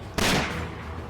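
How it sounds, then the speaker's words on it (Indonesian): One loud, booming gunshot sound effect cracks out abruptly and then rolls into a long, dense reverberant tail that fills the rest of the moment, with no voices heard. "sebuah tembakan melesat ke arah kepala Zhao Zeng"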